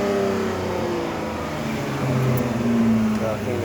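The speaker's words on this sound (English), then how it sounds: "You heard that suck. That mug got that, it got that cause it got a cold air intake on there." Car engine fitted with a cold air intake, a steady close rumble drawing air with a rising surge partway through, while a person talks over it.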